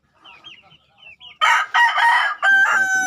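A rooster crows loudly and close by, following a few soft clucks from chickens; the crowing comes in repeated strong bursts.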